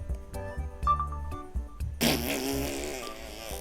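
A fake recorded fart sound for a prank plays as a long, loud, rumbling series of flappy bursts that ends in a sustained buzzy blast, with no one talking.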